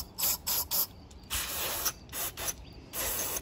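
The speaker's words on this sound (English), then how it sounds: "I got some electrical cleaner. And I'm just gonna spray it and see if it actually shuts off that code." Electrical cleaner sprays onto the MAP sensor of a second-generation Ford Escape in several short hissing bursts, then longer sustained blasts, close and clear with no talking.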